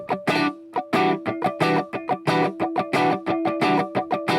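Electric guitar strumming a chord in a steady run of strokes, the downbeats hit harder than the strokes between them, a driven distorted tone that rings loud and alone.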